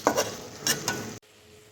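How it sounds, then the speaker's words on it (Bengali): Prawns and potatoes being stirred with spices in a pan, giving a few close scraping, clattering strokes over a soft sizzle before everything cuts off abruptly. "আলু আর চিংড়ি মাছটাকে আমাকে মশলার সাথে সাথে মেশাতে হবে"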